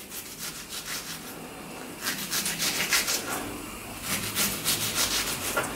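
A small kitchen knife cuts cooked lasagna into small dice, making soft repeated scraping and rubbing strokes against a board in uneven bursts, close and fairly quiet.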